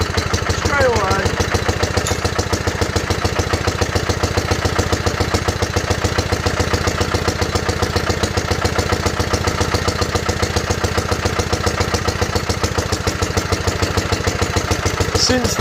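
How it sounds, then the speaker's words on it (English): A Petter PA2 stationary engine with a newly fitted condenser ticking over at idle, a loud, even, rapid chuffing beat that runs steadily and close throughout. "That just sounds nice as well, ticking over at that."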